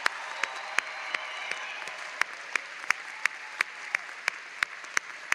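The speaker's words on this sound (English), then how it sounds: "Let's give you another huge round of applause and celebrate your accomplishment." A Wayne State University commencement audience applauds graduates, a steady wash of clapping with sharp individual claps standing out, moderately distant and sustained throughout.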